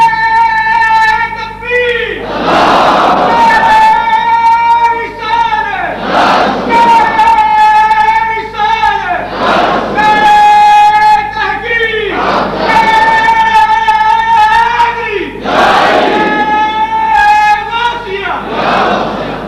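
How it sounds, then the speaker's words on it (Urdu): A large crowd at an Urdu religious gathering roars call-and-response Islamic slogans such as nara-e-takbir, risalat and haidari, loud and close, in repeated rhythmic surges every few seconds with a leader's voice between them. "پہلے نعرے تکبیر، پھر نعرے رسالت، پھر نعرے تحقیق، پھر نعرے حیدری، اس تو بعد نعرے غوثیہ"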